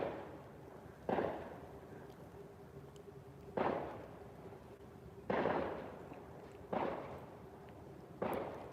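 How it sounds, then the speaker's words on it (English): Five sharp firework bangs burst at irregular intervals, each followed by a short rumbling decay, over a steady low background hum. "Can you guys hear those fireworks?"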